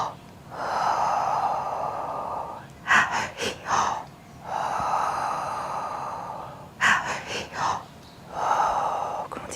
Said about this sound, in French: Continue cette respiration.